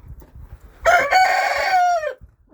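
A rooster on a small farm kept with goats gives one loud, close crow lasting over a second, with a few soft clucks from the hens before and after it.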